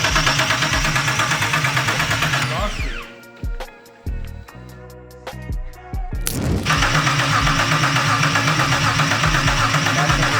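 A BMW E30 fitted with a turbocharged S52 engine cranks briefly, catches and fires up, then settles into a loud, steady rumbling idle that fills the rest of the clip.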